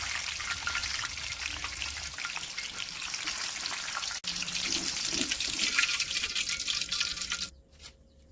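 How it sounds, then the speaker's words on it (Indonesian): Garlic, shallots and tomato frying in hot oil give a steady, dense sizzle throughout, close and fairly loud, with a brief dip midway and a tail-off into near silence at the end. "bawang putih, bawang merah, dan juga tomatnya mau aku goreng terlebih dahulu ya"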